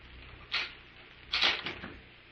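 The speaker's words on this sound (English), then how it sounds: "Lock the doors, Devers." A door being locked as a radio drama sound effect: two quiet knocking clicks about a second apart, the second longer with a small rattle, against faint background hiss.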